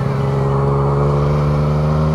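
Yamaha Tracer 900 GT motorcycle accelerating on the road, a loud, close, steady engine drone with a strong low hum holding through the brief moment.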